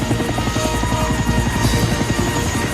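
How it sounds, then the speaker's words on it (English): A helicopter's rotor thumps loudly and rhythmically up close as it lands in snow, its engine whining steadily beneath the rapid beating blades. "With landing lights shining brightly, Harold the helicopter touched down gently in the snow."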